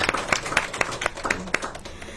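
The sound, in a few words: applause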